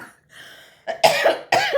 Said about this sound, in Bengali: আস্তে আস্তে আমার কাশি উঠে যাচ্ছে